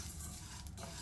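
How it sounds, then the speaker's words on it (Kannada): Coriander seeds dry-roasting in a pan with a soft, continuous crackle and sizzle, faint and steady throughout, with a brief brighter rustle near the middle and no voices. "ಪರಪರ ಅಂತ ಸೌಂಡ್ ಬರುತ್ತೆ ನಿಮಗೆ ಹುರಿತಾ ಇರೋದು"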